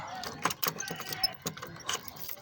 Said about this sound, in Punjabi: ਖੋਲਦੇ ਹਾਂ ਤਾਲਾ